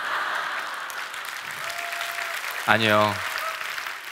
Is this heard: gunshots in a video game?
no